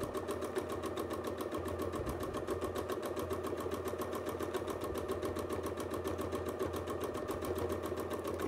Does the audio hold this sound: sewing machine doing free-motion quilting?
yes